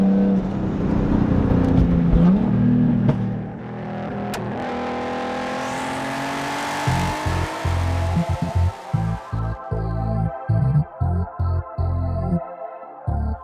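A big-turbo 2002 BMW M3 with an open wastegate revs hard and climbs in pitch as it accelerates, then settles into a choppy, pulsing idle with sharp fluttering bursts.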